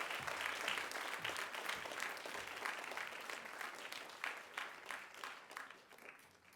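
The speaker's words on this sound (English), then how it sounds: "Everyone, let's give Jude a round of applause." Audience applause for a student contestant at a middle school spelling bee, a moderate burst of many hands clapping that stays fairly even, then thins and fades toward the end.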